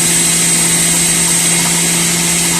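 A Müeller Juicer Pro grinding apples gives off a loud, steady motor drone with a constant hum throughout, close and uninterrupted, with no voices.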